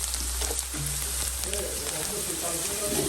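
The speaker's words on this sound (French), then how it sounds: "On rajoute les oignons, on peut revenir les oignons avec alors." Onions fry in a pan for a salt cod dish, giving a steady close sizzle and crackle. People talk over the frying throughout.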